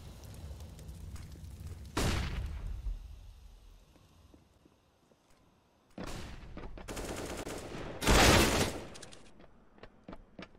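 Gunshots in an esports shooter match: a sharp burst of fire, quieter stretch with scattered clicks, then renewed rapid shots and a loud volley followed by a few isolated pops.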